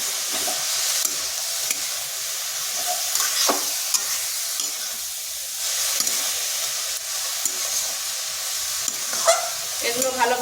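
Cabbage tossed with turmeric powder and salt in a frying pan over medium heat, with a continuous soft sizzle and repeated close scraping strokes of a spatula; a dog barks faintly in the distance.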